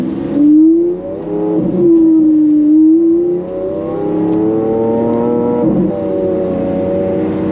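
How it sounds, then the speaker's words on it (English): A loud, close Lamborghini Aventador LP 700-4 supercar engine rumbling and revving, pitch rising and falling through a few throttle blips with a deep, raspy exhaust note throughout. "You can hear how loud the exhaust is"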